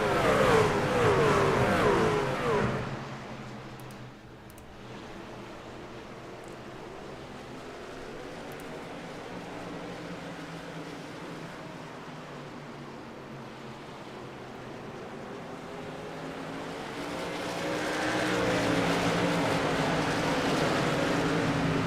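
Race trucks in the iRacing truck series at Myrtle Beach roar as they accelerate at the green flag, loud at first, then fading to a distant engine drone before swelling again.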